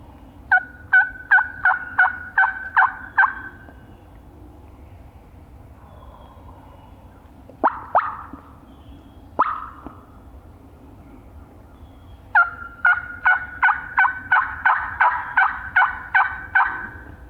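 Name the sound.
wild turkeys gobbling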